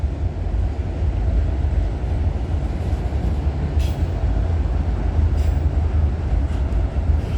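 A CN freight train rolling past trackside at night, a steady heavy rumble of wheels and cars close by, continuous and loud throughout with occasional faint squeaks above.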